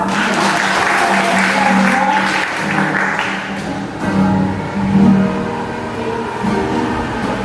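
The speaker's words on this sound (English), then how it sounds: "round of applause" A classroom audience applauds after a teaching demonstration on figures of speech: steady, full clapping over a low background rumble, swelling briefly in the middle before continuing.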